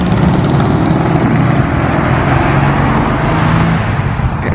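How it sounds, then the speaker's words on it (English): Air-cooled Volkswagen Beetle engine idling nearby at a classic and sports car meet, a close, steady buzzy thrum with a low rhythmic putter, loud throughout. "Air-cooled sounds."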